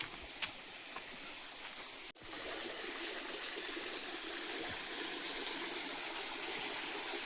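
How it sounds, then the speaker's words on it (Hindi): A mountain stream flows steadily through dense forest near a temple, a constant rushing, gurgling wash of water heard close and alone, with a brief sharp click partway through. "पहाड़ से पूरा पानी आ रहा है, जड़ों से पानी आ रहा है।"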